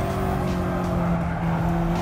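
A race car engine in the Gran Turismo Sport video game drones at a steady, loud pitch, a sustained, even tone held without gear changes or passes.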